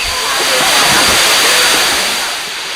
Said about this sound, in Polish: ten wodospad to jest chyba jeden z najładniejszych,